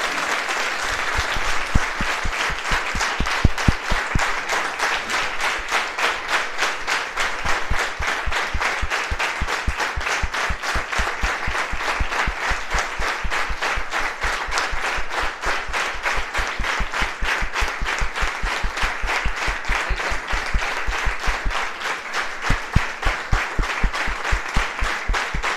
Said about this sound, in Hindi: तालियां बजने लग जानी चाहिए